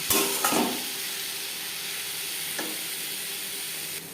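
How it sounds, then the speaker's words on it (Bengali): Potatoes fry with onion in rohu fish oil, a steady broadband sizzle running throughout with a few brief stirring scrapes near the start and midway. "আলু বেশ ভালো করে মিক্স করে দেবো আর দিয়ে দেবো মাছের তেল এখানে আমি রুই মাছের তেল নিয়েছি"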